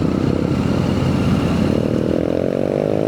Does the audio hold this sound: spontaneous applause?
no